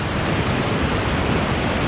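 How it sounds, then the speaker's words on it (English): Evolution Creek rushes in a steady, loud, broadband roar of fast water along a mountain trail crossing, continuous and close with no pauses. "That's Evolution Creek."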